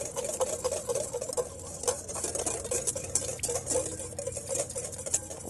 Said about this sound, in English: I'm gonna slowly drizzle that in while I'm whisking to allow the dressing to emulsify